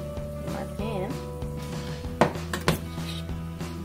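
Vegetables and aromatics, onions, scallions, peppers, thyme and garlic, cook in a pan, with a steady background hiss broken by clinks of utensils against cookware and a couple of sharper knocks.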